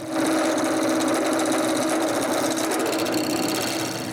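A piece of maple spins on a wood lathe while being turned down to size for a wooden cryptex cylinder cap, giving a steady, close, continuous whirring hum with a gritty texture that holds for the whole stretch.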